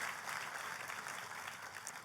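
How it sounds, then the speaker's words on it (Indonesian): A church congregation applauds for God during a worship service, giving a steady, dense wash of clapping that holds at an even level throughout, fairly soft and distant. "Tepuk tangannya yang paling meriah buat Tuhan."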